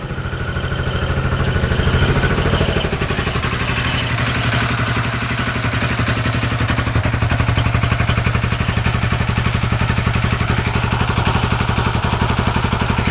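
A UTV engine idles loudly up close, a steady rapid mechanical chugging with clatter that holds even throughout, with no talking over it.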